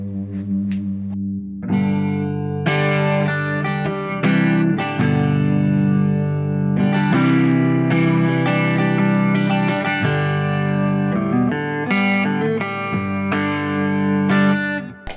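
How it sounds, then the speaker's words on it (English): An electric guitar is played clean on the neck pickup with a little reverb, loud and close, ringing chords and sustained notes in a steady strumming pattern with no talking. "And then here's the neck pickup."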